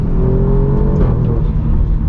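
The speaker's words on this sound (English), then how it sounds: "oh man, that exhaust sounds fantastic" A car exhaust roars loud and close as the engine revs at full throttle, a steady rising growl with a brief pitch sweep, no talking over it.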